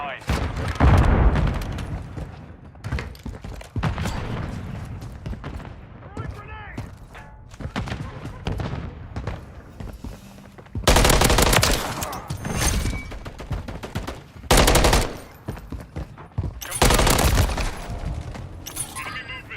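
Bursts of automatic gunfire and booming impacts in the shooter game Call of Duty Modern Warfare 3, loud close volleys in repeated rapid clusters with explosive thuds between, mixed under intermittent player talk.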